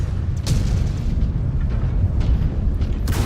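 In the mech combat game Mechwarrior 5: Clans, missile explosions rumble in heavy, low booms, several blasts rolling together over a continuous deep drone, close and loud.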